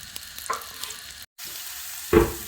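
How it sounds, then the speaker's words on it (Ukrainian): Onion and garlic sizzle and crackle in a hot pan, a steady frying hiss with occasional stirring sounds and a louder burst near the end. "Зараз я смажу цибулю та чесник."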